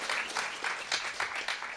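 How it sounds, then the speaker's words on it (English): A company meeting audience claps in a brief, moderately loud burst of applause with uneven rhythmic pulses, without speech. "A big round of applause for her."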